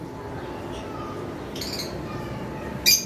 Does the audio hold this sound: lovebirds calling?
yes